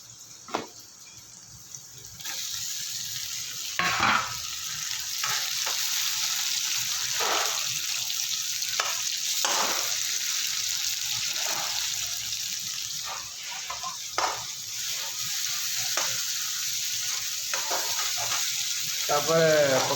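Tomatoes fry in a pan with onions in a home kitchen, a steady sizzle running throughout with scraping stir strokes at intervals and a voice briefly heard.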